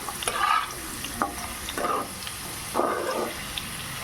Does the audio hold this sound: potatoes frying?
yes